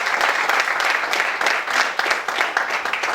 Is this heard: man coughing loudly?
no